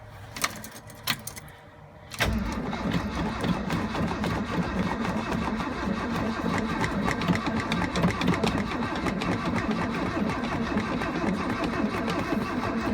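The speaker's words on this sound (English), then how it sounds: "This is gonna be a pure regular cold start" A 1979 Ford F150 is cranked on a cold start without ether: after a few metallic clicks and jangles, the engine catches at about two seconds and settles into a loud, close, uneven rumbling idle.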